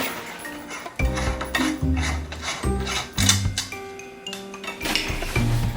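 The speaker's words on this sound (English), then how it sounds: "take your light bulb and righty tight it" A light bulb screwed into the socket of a Neewer soft box light, heard as close, repeated ratcheting clicks and metallic clinks in an irregular rhythm, loud and alone.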